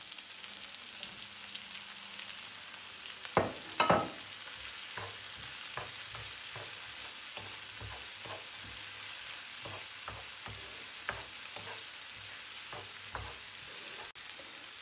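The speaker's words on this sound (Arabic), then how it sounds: "ودابا غادي ندير الفلفله بعد ما تيتحمر لينا مزيان البصل، كنديرو الفلفله" Bell peppers frying in a pan with onions that have already browned, a steady sizzle running underneath a series of sharp stirring clicks and scrapes, with one louder clatter near the start.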